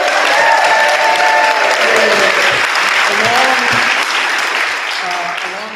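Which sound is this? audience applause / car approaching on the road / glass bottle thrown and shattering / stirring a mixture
audience applause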